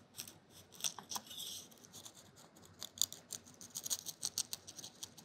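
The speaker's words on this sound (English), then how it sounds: "I cut this like a pie." A knife slicing through a crispy four-ingredient potato cake made in a cast iron skillet, cut into wedges like a pie; quiet, repeated crunchy crackles and scrapes, close and alone with no talk.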